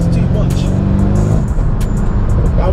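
A Mercedes E63 S engine revs loud and close in sports mode, a deep harmonic roar climbing and holding through a short burst of throttle.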